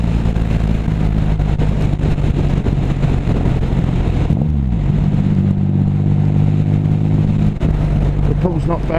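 A motorcycle in sixth gear pulls from about 30 mph as the throttle opens, a steady mid-pitched engine drone with harmonic tones that rise and shift partway through, close and loud with wind noise throughout.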